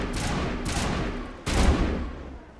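Bursts of gunfire in the video game Mass Effect, two quick shots followed by a louder, longer volley that fades out, close and punchy with no voices.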